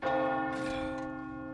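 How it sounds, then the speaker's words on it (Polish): Church bell in the video game Resident Evil 4 Remake tolls once, a single loud, rich strike with a long ringing decay, heard alone. "Ty, dźwięk dzwona ich oczarował."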